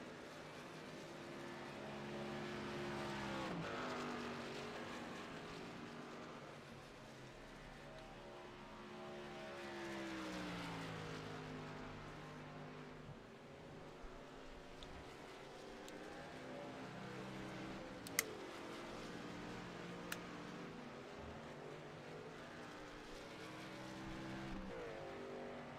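Racing trucks roar around an oval in the final laps of a night race, a continuous engine drone with rising and falling pitch as vehicles pass, fairly distant, with a few sharp clicks.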